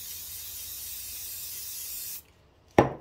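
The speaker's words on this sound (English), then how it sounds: "just spray onto whatever you're going to use to clean the mech with" Cleaner is sprayed onto a lint-free cloth for cleaning a coin mechanism: a steady close hiss lasts about two seconds and cuts off, followed by one short, sharp spurt.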